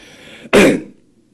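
A single sharp, close cough bursts out after a moment of faint background noise, then fades to quiet.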